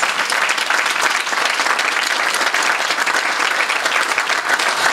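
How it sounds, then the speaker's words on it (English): An audience at a civic event about a city grant breaks into dense, steady applause, loud and close, with no talk over it. "please can we give him a round of applause"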